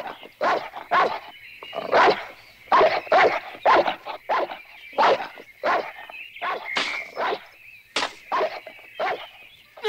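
A cartoon dog barks loudly and repeatedly in a fast, irregular run of sharp barks and yips, with brief gaps and no one talking.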